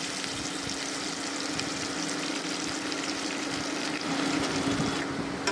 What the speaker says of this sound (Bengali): এবার আমি আলুগুলোকে ভেজে নেব, তাই আলু আমি তেলে দিয়ে দিলাম